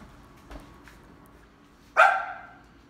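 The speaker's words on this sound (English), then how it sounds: "The dog's barking." A single sharp dog bark rings out, close and fairly loud, after a couple of faint softer sounds in a quiet room.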